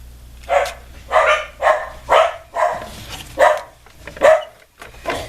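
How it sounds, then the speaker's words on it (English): Several dogs bark excitedly indoors, about eight loud yapping barks in an uneven rhythm over a low background hum. "That's why the dogs get so excited."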